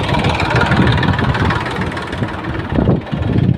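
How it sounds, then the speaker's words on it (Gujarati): A tractor engine runs steadily, its front end lifting under a load of bales; a loud, continuous low rumble and throb with no voices. "તો એટલી વારમાં ટ્રેક્ટર આવી ગયું."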